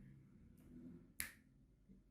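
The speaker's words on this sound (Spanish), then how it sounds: "por ejemplo el chasquido con mis dedos" A single sharp finger snap cracks out of a quiet room, one crisp click standing alone against faint background noise.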